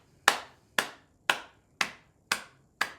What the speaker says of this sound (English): if I just clap like this